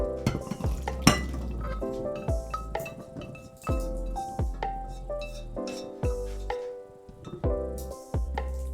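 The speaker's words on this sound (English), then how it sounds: "So we just dump this half to the bowl." Boiled peanuts cooked in soy sauce and spices, tipped from a pot into a bowl alongside celery, giving a series of loud, close clinks, scrapes and rattling knocks of metal and ceramic with short gaps.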